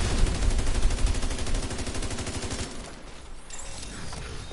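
Dense automatic gunfire rattles loud and close in The Division 2, a fast continuous volley that cuts off after about two and a half seconds, leaving scattered quieter shots and low battle noise.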